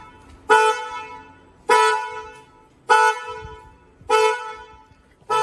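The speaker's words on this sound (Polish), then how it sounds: "Dodatkowo włączyły się kierunkowskazy i klakson." The car alarm of a 2022 Kia Sportage blares the horn in a steady repeating pattern, five loud honks roughly a second apart, each fading slightly before the next.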